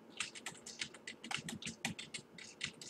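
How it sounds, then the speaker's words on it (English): Rapid, light keystrokes clatter on a computer keyboard, a steady quiet run of taps close up with no talking. "I can't talk and type."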